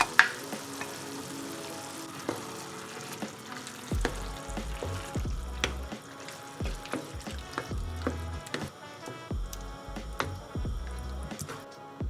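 Zucchini and combined red and four-cheese sauces cook in a pan for lasagna, giving a quiet sizzle with scattered drips, squishy stirring and scraping clatters, no one speaking.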